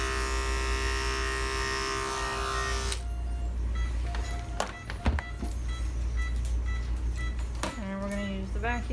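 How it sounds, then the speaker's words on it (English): Electric clippers buzz steadily while shaving an animal's fur close to a surgical incision site in a veterinary surgery prep, a loud continuous hum for about three seconds that then gives way to quieter room sounds, clicks and brief whirs. "I'm gonna make sure he's clipped close to where we're doing the actual incision"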